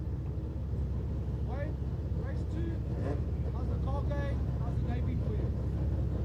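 Volkswagen Golf Mk1 racing car engine at a historic championship race, a steady loud drone with rising and falling revs running throughout, with a commentator talking over it.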